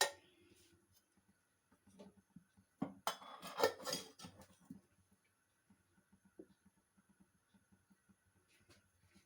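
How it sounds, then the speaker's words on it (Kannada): Oil poured into a pan heating on a stove, a brief rushing burst midway set among faint clinks and taps of metal cookware in an otherwise quiet kitchen, with no talking. "ಈಗ ನಾನು ಇಲ್ಲೊಂದು ಪಾತ್ರೆ ಬಿಸಿಗೆ ಇಟ್ಕೊಂಡಿದ್ದೀನಿ. ಅದಕ್ಕೆ ಸ್ವಲ್ಪ ಎಣ್ಣೆ ಹಾಕ್ಕೊಳ್ಳೋಣ."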